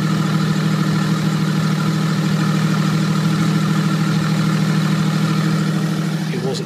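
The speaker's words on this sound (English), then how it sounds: "The engine obviously at this stage would start and run." A Toyota Land Cruiser HDJ80 with its 1HD-T turbo diesel engine idles with the turbo pipe removed, giving a loud, steady, low rumbling drone that stays even throughout.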